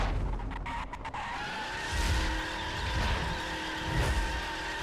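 A 2010 Chevrolet Camaro SS driving in The Crew video game, a stock car whose steady engine drone rises and falls with brief tire noise, heard alone at moderate level.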